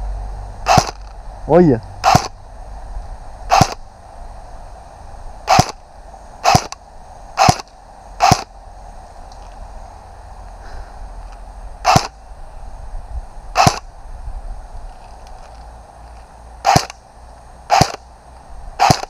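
Airsoft M4 rifle fired outdoors in woods: a series of sharp, single snapping shots at irregular intervals, about fifteen in all, with a brief spoken word near the start.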